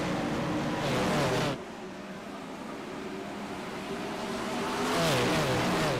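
A pack of dirt sprint cars racing at Knoxville in the iRacing video game, engines droning and roaring steadily at high revs, swelling as cars sweep past, with no talking.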